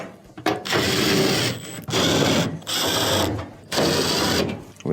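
Powered screwdriver driving quarter-inch screws back into a dryer cabinet, four loud close whirring bursts separated by short pauses.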